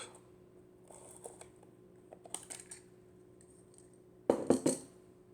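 Kiev rangefinder film camera being opened, a few soft scattered clicks followed by a sharper cluster of metallic snaps, close and quiet.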